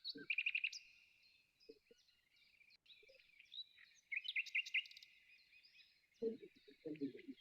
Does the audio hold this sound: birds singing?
yes